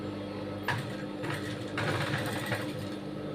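A sewing machine stitches the back neck of a blouse in short, nearby mechanical bursts of rapid whirring, pausing briefly between runs.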